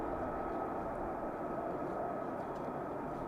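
At RAF Lakenheath at night, a jet aircraft coming in makes a steady, broad engine roar, constant and fairly distant, with no talk.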